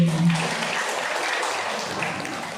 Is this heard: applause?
yes